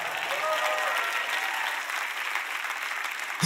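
A church congregation applauds for a teaching screen being brought onto the stage, with steady, dense clapping from the crowd for about three and a half seconds and a brief louder burst at the end.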